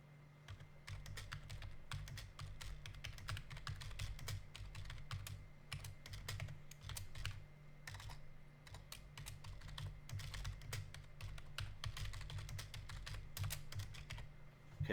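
Steady clatter of fast typing on a temporary computer keyboard that replaced a broken one, keys tapping close and continuously with a constant low hum beneath and no voices.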